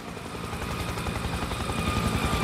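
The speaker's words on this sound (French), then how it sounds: "Attendez, hélico en approche." Helicopter rotor in the video game Spec Ops: The Line, a steady loud chopping thrum drawing nearer and building slightly over a few seconds, with no talk over it.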